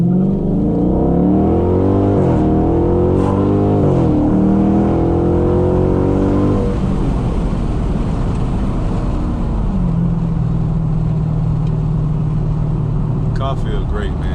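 A Dodge Charger 392 Scat Pack in street mode accelerates hard, its engine note climbing through the revs with a couple of shifts before settling into a loud, steady drone, heard from inside the car.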